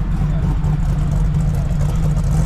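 A Ford Bronco engine at a Cars and Coffee show in Hershey gives a close, steady low mechanical rumble throughout, with outdoor crowd noise faintly beneath.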